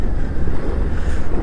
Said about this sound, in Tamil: காற்று தாங்க பயங்கரமாக அடிக்குது